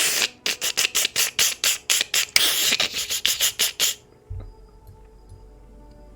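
A creature gives a rapid series of sharp, raspy clicks in an even rhythm, ending in a short scratchy flurry. Then it falls to near silence with a faint low hum.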